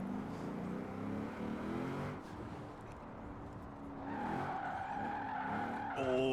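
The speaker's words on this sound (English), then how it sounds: "this car slid so violently sideways, it knocked my water over" A car in the racing game Forza Horizon 4 slides violently sideways, its tires skidding and squealing over a steady engine roar that swells louder toward the end, with faint music underneath.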